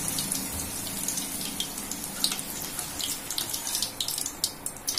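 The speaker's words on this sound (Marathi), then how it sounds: "आता आपण यांना भाजून घेऊया." Green chillies roasting in hot oil in a pan, with the gas flame switched off, give a continuous close, bright crackling sizzle with scattered sharper pops and spits.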